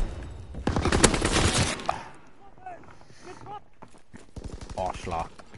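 A grease gun submachine gun fires in Call of Duty WW2. Two rapid full-auto bursts, one early and one near the end, are separated by a quieter gap of scattered game sounds.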